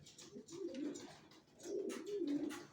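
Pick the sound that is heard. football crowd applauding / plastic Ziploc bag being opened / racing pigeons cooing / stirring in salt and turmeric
racing pigeons cooing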